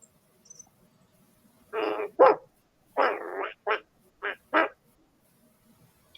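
A voice imitates a dog barking, giving several short separate woof sounds in a loose rhythm, close and clear against a quiet room.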